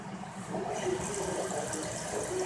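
Tap water running through a Chinese faucet-mounted water filter, a steady rushing flow that grows louder and brighter after a switch partway through, continuous with no voices.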